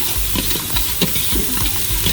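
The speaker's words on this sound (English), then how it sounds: "We're going to saute these veggies really quick" Vegetables sauté in a hot pan with a steady sizzle and frequent stirring scrapes, close and loud, with no talking.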